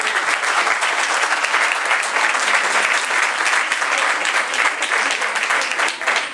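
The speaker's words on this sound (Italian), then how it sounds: "Innanzitutto volevo fare un applauso ai ragazzi della Meglio Gioventù per questa" Dense, steady applause from a large audience filling a hall at a comedy evening in Camerota, continuous and even throughout with no voices standing out.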